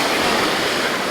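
Ocean waves wash and crash around a catamaran on an excursion off Basseterre, St. Kitts, a loud, steady broadband rush with wind across the microphone and no talking.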